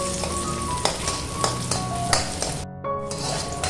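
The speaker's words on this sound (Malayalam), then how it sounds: "ഈ എണ്ണയിലോട്ട് തന്നെ നമ്മൾ മുറിച്ചെടുത്ത കൊച്ചുള്ളിയും കൂടെ ചേർത്തൊന്ന് വഴറ്റിയെടുക്കാം" Chopped shallots sauté in hot oil with a steady, close sizzle, broken by several sharp clanks of a utensil against the pan and a brief dip in the frying noise near the end.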